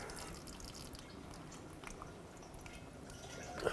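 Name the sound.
transmission fluid draining from a 2006-2011 Chevrolet HHR oil pan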